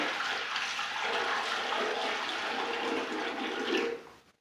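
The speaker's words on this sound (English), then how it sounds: "let's put some water in here" Water poured from a small cup into a toilet bowl reservoir during installation, a steady splashing rush lasting several seconds, close and fairly loud, then stopping abruptly.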